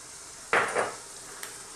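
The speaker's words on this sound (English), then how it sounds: "In my pan here, I'm heating up some olive oil and we're going to drop in some sliced onions." Sliced onions hit hot olive oil in a pan with a sudden burst of sizzling that quickly swells and then settles into a quieter hiss, with a small clink after.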